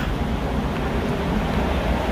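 Surf washing onto East Beach, a steady broadband roar of waves with wind noise buffeting the microphone, continuous and fairly loud with no distinct breaks.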